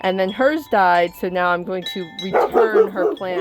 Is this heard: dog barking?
yes